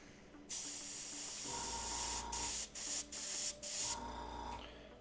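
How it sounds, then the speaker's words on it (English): An airbrush sprays paint in short cleaning bursts while a miniature dwarven hunter bust is being painted, a close, loud hiss that starts and stops several times with brief gaps between bursts. "we got a good clean spray going"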